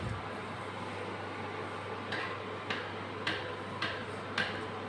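Mustard seeds splutter in hot coconut oil and ghee on an induction stove, giving sparse, sharp pops over a steady low hum and faint sizzle.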